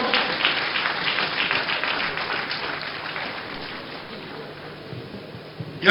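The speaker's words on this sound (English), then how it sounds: "Round of applause." Crowd applause at a 60th Independence Day anniversary parade ceremony, a broad clapping wash that is strongest at first and slowly thins out, with a sharp knock at the very end.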